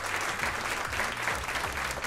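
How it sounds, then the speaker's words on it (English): A live radio show audience applauds at a sellout taping, a steady, dense patter of clapping throughout, with a low hum underneath. "Give yourselves a round of applause for being here today."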